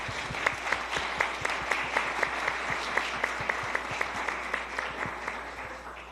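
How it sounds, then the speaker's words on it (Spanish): An audience claps steadily for several seconds at a panel event on Andean Colombian music, many hands in a dense patter with a few sharper claps standing out, no talking. "La maestra Victoria Sur, la recibimos con un aplauso"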